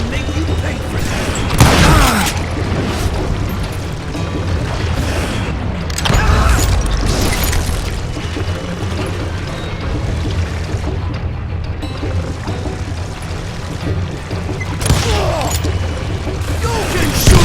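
Dynamite blasts and gunfire in the Western shooter Call of Juarez Gunslinger, several loud bursts, around two, six and fifteen seconds, over a constant rumbling, clattering game background with shouting voices mixed in.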